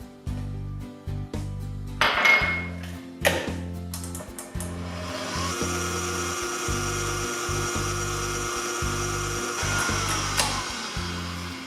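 An electric mixer beats cupcake batter. Knocks and clinks come first, then the mixer is switched up to a higher speed and gives a continuous, fairly loud whirring hum that holds to the end.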